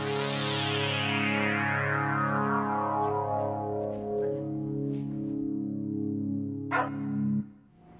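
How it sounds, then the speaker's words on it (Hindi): Dogs in a clinic in an animated children's cartoon give a few short, sharp yips and barks over a loud, sustained musical tone, and the tone cuts off near the end. "क्लिनिक में भी कुत्ते?"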